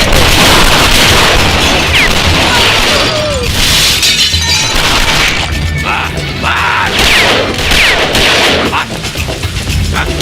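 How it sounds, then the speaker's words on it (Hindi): Loud, dense gunfire in a dubbed Indian action film shootout, sharp cracks and bursts layered over booming impacts and shattering, continuous for about ten seconds. "इतनी फायरिंग हो रही थी, तू देख रहा था, तुझे डर नहीं लगा?"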